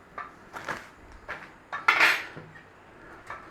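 Metal spoon stirring cocoa powder, corn flour, salt, sugar and milk in a pot over a flame for chocolate custard, giving several close clinks and scrapes against the pot.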